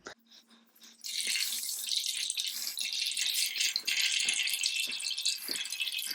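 Water runs steadily into a pot of pumice holding a Laelia tenebrosa orchid during repotting, a continuous bright splashing stream after a brief quiet start, close and alone with no talk.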